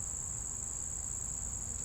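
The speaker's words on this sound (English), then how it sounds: "Crickets. Literally chirp chirp." Crickets chirp steadily as a continuous high-pitched trill over a low rumble of background noise, with no voices.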